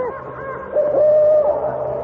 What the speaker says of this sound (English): It is just an owl.